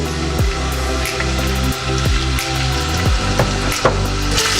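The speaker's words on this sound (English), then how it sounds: "So we're going to saute our onion" Onion sautéing in a pan for butter chicken sauce, a steady close sizzle broken by regular scraping strokes as it is stirred, with no voice over it.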